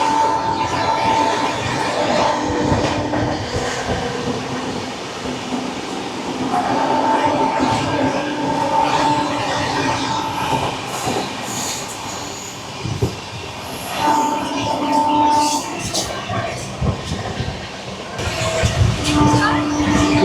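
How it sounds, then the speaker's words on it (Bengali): The Puri–Howrah Shatabdi Express rolls along steadily while overtaking a goods train, a continuous loud rumble with wheel clatter and occasional squeals, someone talking over it throughout. "এই যে গুডস ট্রেনটাকে ওভারটেক করলাম"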